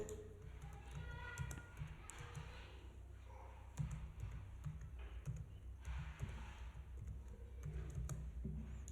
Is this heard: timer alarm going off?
no